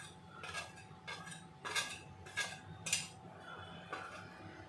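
A utensil stirs and scrapes through egg patty filling with chopped onion, salt, black pepper and coriander in a bowl, making repeated rhythmic clinks and scrapes close by.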